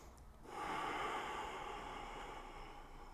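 Slow, steady breathing during a yoga flow in warrior two pose: a soft intake followed by a long, sustained exhale, close and quiet, with no talking.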